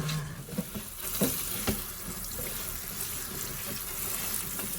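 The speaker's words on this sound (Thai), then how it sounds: "แล้วก็ล้างน้ำออกค่ะ" Food being rinsed under running tap water, a steady moderate splashing and trickling with a few small knocks, no voices.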